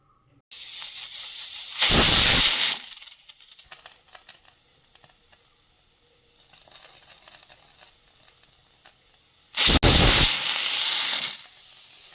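A pressure cooker whistles twice while cooking broken-wheat upma on a stove, two loud hissing steam blasts separated by quieter sizzling, close by.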